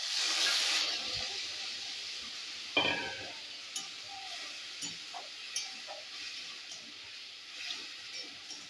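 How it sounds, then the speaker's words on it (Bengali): Ginger paste frying in a pan sizzles softly after an opening hiss, with a few sharp stirring clicks and scrapes spaced through the quiet stretch. "এবার আমি এই যে আদা আদা বাটাটা দিয়ে দেবো"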